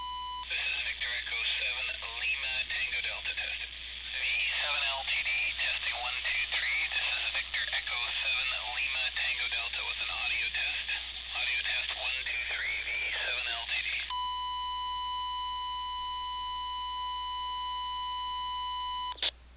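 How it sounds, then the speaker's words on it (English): Ham radio IRLP repeater audio test: a distorted voice garbled through the link for about fourteen seconds, then a steady 1000 Hz test tone with harsh distortion harmonics until the end, all fairly faint. "there was quite a bit of distortion both in the 1000 Hertz tone and in the voice"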